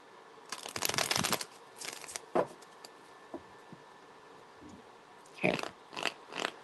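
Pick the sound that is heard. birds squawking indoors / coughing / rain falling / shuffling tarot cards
shuffling tarot cards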